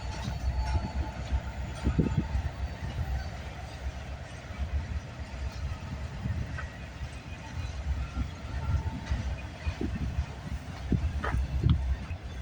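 A CN freight train hauling empty auto frames rolls past with a steady rumble and rattling wheel clatter, with a voice speaking over it.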